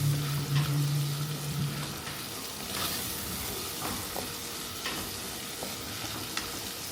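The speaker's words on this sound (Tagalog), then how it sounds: "So yan, gisa natin para mawala yung amoy ng bagoong" Homemade dry fish bagoong, made from blended fish, fries in a pan with a steady, close sizzle, punctuated by occasional spatula scrapes and taps against the pan; a brief hum sounds near the start.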